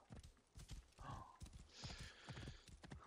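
Horse hooves clip-clop in a steady trotting rhythm in Assassin's Creed Origins, close and moderately loud, with a brief whinny partway through.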